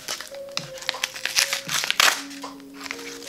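An American Express card envelope is pierced with a pen and torn open, giving bursts of crinkling and ripping paper close by, with brief tonal squeaks and no speech.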